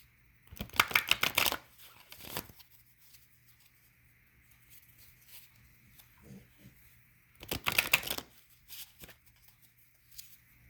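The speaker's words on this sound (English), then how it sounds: "I want to just go ahead and shuffle and see what cards come out." Tarot cards are shuffled in two quick riffling bursts separated by a quiet stretch, with faint handling noises in between.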